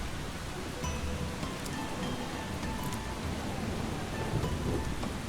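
Rainstorm with thunder in the video game Eastshade: heavy, dense rain pours continuously on surfaces, with low thunder rumbling underneath and a few brief crackles, and no speech.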